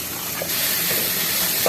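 Vegetables with garlic, ginger and chicken soup frying in a pan for samosa filling, a steady broad sizzle with a few soft stirring scrapes, close and fairly loud, no talking.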